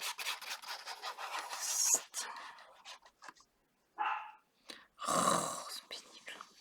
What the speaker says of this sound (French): Encore mes chiens qui aboient